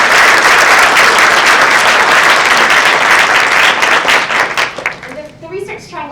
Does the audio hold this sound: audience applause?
yes